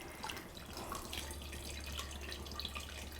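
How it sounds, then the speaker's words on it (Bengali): Cold tap water runs over freshly made chhana (cottage cheese) being rinsed in a kitchen, a faint, steady splashing and trickling stream with no talking. "এবারে আমি বেশ কিছুটা জল দিয়ে, ঠান্ডা জল দিয়ে আমি ছানাটা ধুয়ে নেব।"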